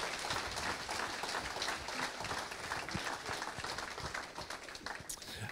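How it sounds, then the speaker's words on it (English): Audience applause at a Knoxville Raceway Hall of Fame induction ceremony honoring Tony Bacco, a steady dense clapping from a crowd that carries through the whole stretch at an even level. "let's give him a round of applause."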